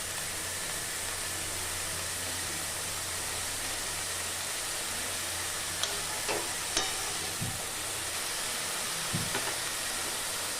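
Vegetables for a Bengali paratha filling lightly frying in a pan: a steady, soft sizzle throughout, with a few faint clinks of stirring near the end and no talking.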